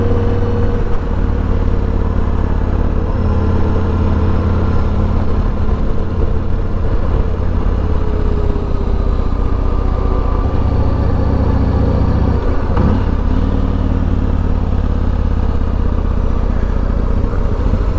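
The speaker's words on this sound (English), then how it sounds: "The best sound in motorcycle, I think." A Yamaha MT01 motorcycle's big engine rumbles steadily and loudly throughout, a deep continuous throb with a brief swell of revs near the middle and no talking.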